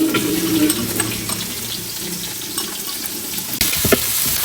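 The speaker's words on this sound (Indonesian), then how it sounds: "Kita tumis ya teman-teman." A paste of ground garlic, shallot and ginger, with bruised galangal, lemongrass, lime leaves and bay leaves, is sautéed in a home kitchen pan, giving a close sizzle with stirring scrapes, a brief clatter near the end and no talking.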